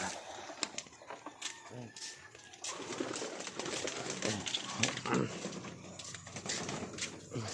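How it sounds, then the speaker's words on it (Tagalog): Pet birds kept by a vlogger cooing and clucking in a yard, a scattered run of soft pigeon-like coos and fowl clucks at close range, fairly quiet, with faint background noise. "yung mga barata birds ko yan"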